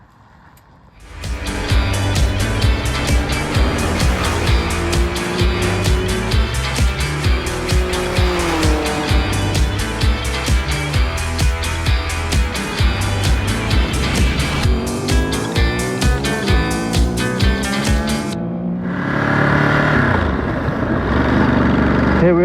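New 2023 Ducati Monster 937 SP motorcycle on a test ride: the engine swells from quiet into a loud, sustained drone with shifting revs, then drops away near the end, heard close with no talking.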